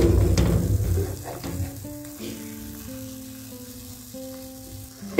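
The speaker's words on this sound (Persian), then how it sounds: "دوباره در ظرف رو میذارم تا زمانی که زیر خاگینه سرخ بشه" Pumpkin khagineh, a soft egg-and-pumpkin omelette, fries in a covered pan with a loud, steady sizzle and crackle. Faint clinks and tonal hums sound underneath before it settles to a quieter continuous frying hiss.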